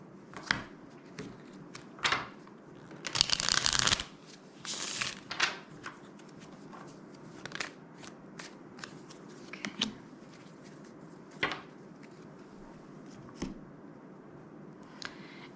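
Tarot cards being shuffled and laid out during a reading, a run of soft papery riffles and flicks with one denser burst of shuffling, close and fairly quiet with no talk.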